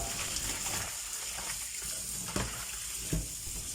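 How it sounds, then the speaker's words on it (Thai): Tap water runs steadily over a slimy eel being rinsed of mucus and blood in a kitchen sink, a continuous close splashing rush with a couple of brief louder splashes and no talking. "ล้างน้ำเอาเมือกเอาเลือดมันออกอีกสักรอบหนึ่งนะครับ"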